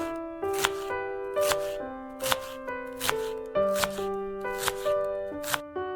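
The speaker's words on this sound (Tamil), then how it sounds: "4 வெங்காயம் நீட்டா மெலிசா கட் பண்ணி எடுத்துக்கலாம்." A knife slices onions thinly on a board in about eight regular, crisp strokes, each a sharp chop, heard over steady background music.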